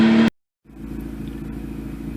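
Mazda RX-8 rotary engine idling smoothly after a BHR coil install, a low, even hum with a steady pulsing note following a brief loud burst and a moment of silence.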